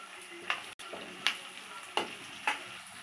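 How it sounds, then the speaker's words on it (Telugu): Carrot, green peas, green chillies and capsicum stir-fry for egg fried rice in a pan: a low sizzle under four distinct scraping strokes of a spoon, evenly spaced and close, with no speech. "ఈ విధంగా ఇవన్నీ మంచిగా కలుపుకొని ఫ్రై అయిన దాకా మంచిగా కలుపుకోవాలండి"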